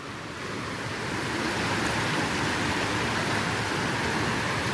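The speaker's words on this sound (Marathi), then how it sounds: "बघा पाणी किती ओव्हरफ्लो होऊन राहिला आहे" Water overflowing from Bhivapur Lake in Amravati rushes in a constant loud broadband roar, steady and unbroken, with some wind buffeting the microphone and no voices.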